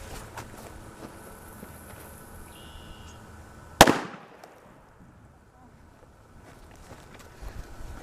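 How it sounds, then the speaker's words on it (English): A standard red firecracker bursts with one sharp, loud bang about midway, and its echo trails off afterward. Outdoor wind noise and faint rustling sit underneath. "So this is just the red regular issue firecracker."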